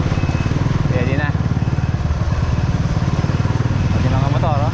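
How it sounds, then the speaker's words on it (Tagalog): Motorcycles run past on a road cleared after flooding, a close, rumbling engine drone with rhythmic pulsing, under people talking throughout. "Pati mga motor oh. Pati e-bike okay na."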